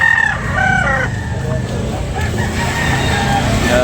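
A lemon sweater gamefowl rooster crows loudly and nearby in a drawn-out call, followed by a low, steady background rumble.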